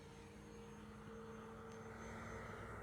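A Turbo Timber RC airplane's electric motor and propeller at full throttle on takeoff, giving a steady, sustained tonal whine that builds slightly over a few seconds against an outdoor background.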